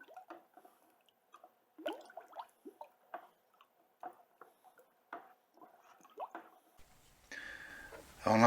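Ladle stirring kelp enzyme liquid in a pail, heard as soft, irregular liquid clinks, drips and sloshes close by, then a brief louder rustle at the end.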